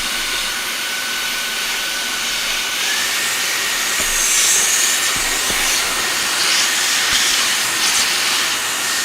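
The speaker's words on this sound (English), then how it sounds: "let me let me vacuum that" A vacuum cleaner runs steadily throughout in a workshop setting, a loud continuous hiss and whine with a few faint clicks and knocks underneath, with no talking.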